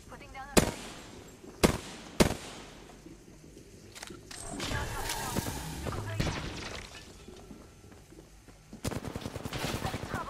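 Video game combat with a grenade: sharp bursts of gunfire, then a long booming, crackling blast and a rapid volley of shots near the end, loud and close, with a voice talking in the middle.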